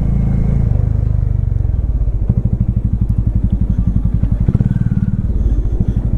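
Motorcycle engines on a mountain road in Arunachal Pradesh: a loud, close, low thumping engine beat that runs steadily throughout with a slight rise partway, and no clear talking.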